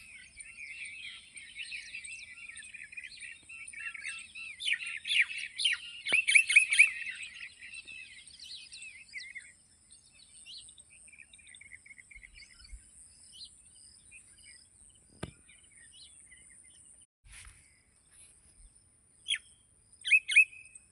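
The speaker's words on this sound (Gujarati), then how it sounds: "જો એ પક્ષી કેવા બોલા અત્યારમાં" Birds chirp and twitter in quiet open air, with insect or cricket-like trills mixed in; busy high calls cluster early, then fade to sparse, scattered tweets with a few sharp chirps near the end.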